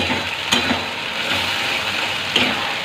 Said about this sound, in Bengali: এই পেস্টটা আমি দিয়ে দেবো এখানে তো দেখো এটা একটু ভাজা ভাজা করে নিয়ে